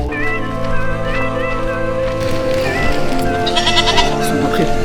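Goats bleat repeatedly in wavering, drawn-out cries close by, with people talking over and between the calls.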